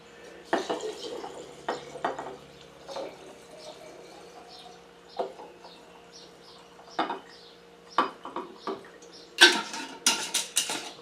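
Base spirit for a cinnamon Hot Damn moonshine is poured into a jar, giving a trickling, dripping pour. Glassy clinks and taps come in irregular bursts, some louder near the end.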